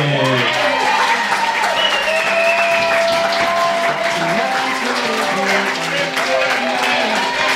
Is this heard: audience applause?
yes